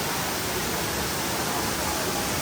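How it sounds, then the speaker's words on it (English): A waterfall feature mixing Guinness at the Guinness Storehouse in Dublin, heard as a continuous dense rush of falling water, steady and close, with no talk. "This is a waterfall somehow mixing the Guinness."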